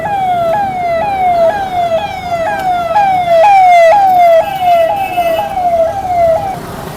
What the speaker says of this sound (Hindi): एम्बुलेंस सारी जगह दे दो।